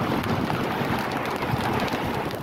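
A rice field is lashed by heavy rain and strong wind, an unbroken loud hiss of rainfall under low buffeting gusts, close and steady.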